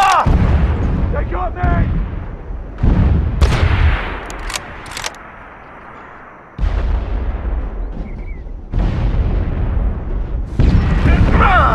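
Grenade blasts and gunfire in the Socom 4 tactical shooter: loud, booming detonations and sharp bursts of shots break in repeatedly, with a brief quieter lull midway and voices calling out between the bangs.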